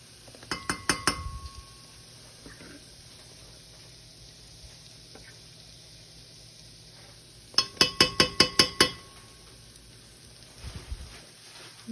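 Metal spoon clinking against a pot while turmeric is added to warming milk: two quick bursts of rapid clinks, a few taps at first and a longer run of six or so later, over a faint steady hum.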